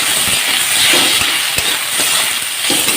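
Small fish and potatoes frying in a pan on a gas flame for an Assamese small fish curry, a loud dense sizzle with sharp crackles and pops scattered through it, close and continuous with no talk.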